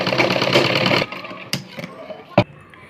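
A sewing machine stitching a princess cut blouse runs in a loud, fast whirring burst for about a second, then stops, followed by two sharp clicks and light handling noises.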